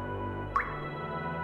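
A single water drop falls with a clear plink over a steady low background hum.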